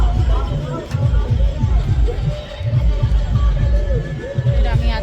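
Crowd at a village fair, a steady murmur of many voices over a thumping low rhythmic beat, close and fairly loud throughout.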